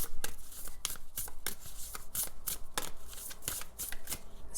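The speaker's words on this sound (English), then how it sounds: "Let me shuffle some more cards from this Amenti Oracle deck." Oracle cards from an Amenti Oracle deck being shuffled by hand, a close, steady run of crisp riffling bursts about twice a second with no talking.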